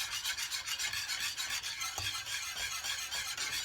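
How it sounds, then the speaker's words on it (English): A whisk scrapes and rubs steadily in a bowl, mixing a cinnamon mixture for vinegar pie, with a continuous rhythmic rasping, close and fairly quiet, without talking. "Now I'm going to whisk this in"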